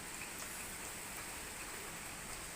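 Steady rain falls continuously, a dense even patter with no pauses, fairly soft and spread out like a drizzle on surfaces nearby.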